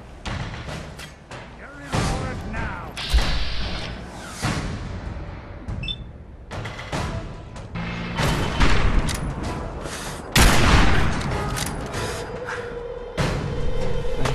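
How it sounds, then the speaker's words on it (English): Dense battle gunfire from the video game Fallout 4, with overlapping shots, thuds and booms rolling continuously at close range, bursts swelling and dipping throughout with no pauses. "There's like somebody else over here shooting at me at the same time."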